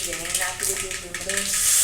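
Curry leaves hit hot tempering oil already holding mustard seeds, cumin and a few peppercorns, giving a steady crackling sizzle with light popping, close and fairly loud, with no talk over it.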